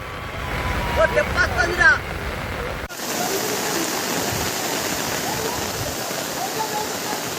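A flooded stream rushes loudly and continuously after heavy rains near a village hamlet, with faint voices over the water noise early on before the torrent fills everything.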